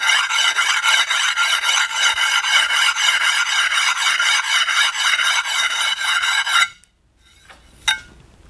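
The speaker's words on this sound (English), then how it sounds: "we were able to smooth most of those chips out to give us a nice finish" Rhythmic rasping strokes smoothing the chipped cut edge of a tile, a fast steady back-and-forth filing sound, loud and close for several seconds before stopping abruptly, followed by a couple of faint knocks.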